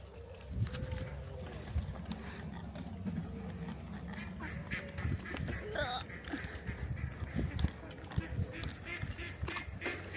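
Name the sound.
duck quacking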